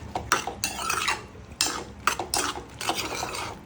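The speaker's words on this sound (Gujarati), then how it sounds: "હલાવી દઈશું પ્રોપર." Sponge gourd sabji stirred in a metal pot with a spoon, giving repeated scraping and clinking strokes in irregular bursts, close and fairly loud, with no talking.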